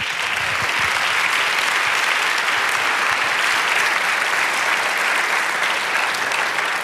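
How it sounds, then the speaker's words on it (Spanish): A church congregation breaks into sustained, dense applause during a sermon, many hands clapping at a constant loud level throughout with no gaps, no talking over it. "Dar un aplauso al Señor."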